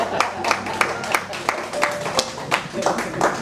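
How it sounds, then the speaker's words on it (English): A town hall audience breaks into scattered, steady clapping, individual claps landing in a loose rhythm at moderate volume over a faint room murmur. "we can clap for that. We can clap for Georgetown."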